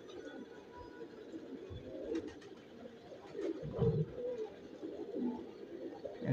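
Pigeons, including Sahranpuri and other paired breeds, coo softly in a loft, low throaty calls repeating at an easy rhythm with some wing shuffling, fairly faint and close by.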